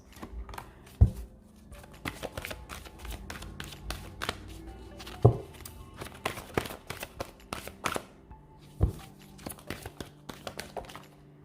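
A deck of tarot cards is shuffled and riffled by hand, producing soft continuous flutters and papery slaps with occasional sharper taps, fairly quiet and close.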